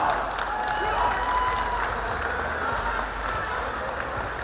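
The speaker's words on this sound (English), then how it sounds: "Ladies and gentlemen, round of applause for both fighters this evening." Crowd at a combat sports fight night applauds for both fighters, a dense sustained roar of clapping and cheering filling the venue, with an announcer's voice carrying over it.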